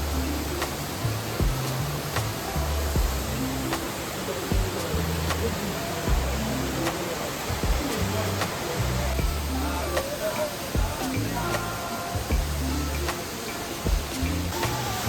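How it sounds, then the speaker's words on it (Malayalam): Steady, loud rushing roar of a waterfall in the Aare Gorge in the Swiss Alps, continuous broadband water noise close by with no pauses. "ഇവിടെ ഒരു വെള്ളച്ചാട്ടമുണ്ട്. വളരെ നേരത്തെ രീതിയിൽ വെള്ളം ഇങ്ങനെ ചാടിക്കൊണ്ടിരിക്കുന്നുണ്ട് കണ്ടോ."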